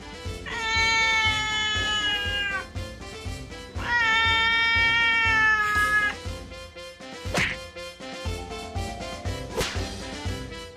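Orange cat meowing, two long, drawn-out, tonal meows close up over a busy musical backing, followed by a couple of sharp thwacking hits.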